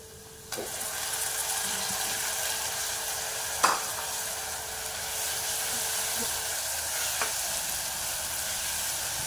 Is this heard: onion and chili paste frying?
yes